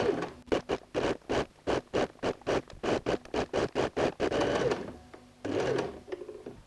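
A sewing machine stitching stretch T-shirt fabric around a sleeve, running in a quick, regular series of short mechanical bursts, then a longer continuous whir and a final short run, close and with no voices.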